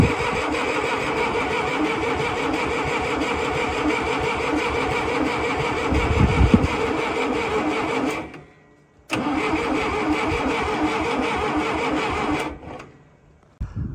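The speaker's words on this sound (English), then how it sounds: "More throttle." Massey Ferguson 180LP tractor, unused for 35 years, cranking over with more throttle, a loud steady churning starter that stops briefly, restarts and cuts off again, no talking.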